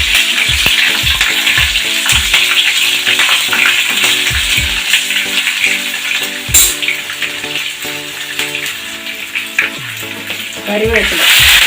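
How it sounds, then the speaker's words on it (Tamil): Green chillies fry in hot oil with fenugreek, cloves and curry leaves as the base for a kanangeluthi fish curry. A loud, close sizzle runs throughout, with repeated stirring scrapes and a tonal hum underneath. "பச்சை மிளகாய் நல்லா வதங்கி வைக்குது."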